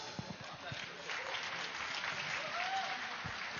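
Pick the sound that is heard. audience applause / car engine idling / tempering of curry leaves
audience applause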